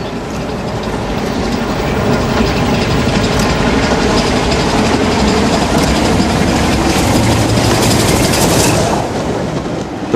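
A Black 5 steam locomotive hauling a shuttle train between Aylesbury and Princes Risborough, a loud, steady rumble of wheels and rolling stock with rhythmic clatter throughout, close by and with no voices.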